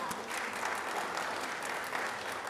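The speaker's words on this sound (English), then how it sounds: "So let's give them a big round of applause." Conference audience at TiEcon 2014 giving sponsors a round of applause, a steady, even patter of many hands clapping at moderate volume throughout, with no voices over it.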